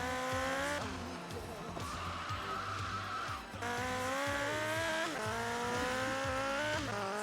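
Video game engine roar from GTA Vice City Stories on PS2, a loud continuous vehicle motor with rising and falling revs and gear-shift drops, close and steady throughout, with tire-squeal tones mixed in.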